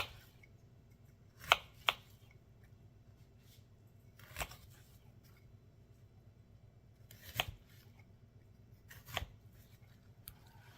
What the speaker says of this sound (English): I'm going to try to dice this up as small as I can.